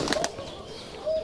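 A large-winged female pigeon let go from the hand, its wings giving a quick cluster of soft flaps near the start, followed by quiet background noise.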